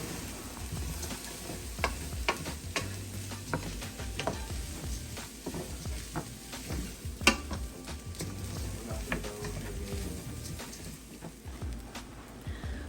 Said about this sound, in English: so I can toast this rice along with the vegetables